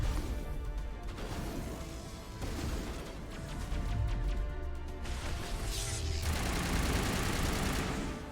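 Sustained gunfire in the video game Mass Effect, dense bursts of rapid shots and crashing impacts that swell louder midway and keep going without pause.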